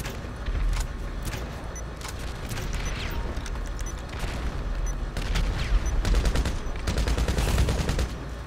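Loud, close gunfire from a weapon in GTA V, with bursts of rapid automatic shots and separate single cracks over a rumbling game background. Fast rattling volleys grow denser toward the end.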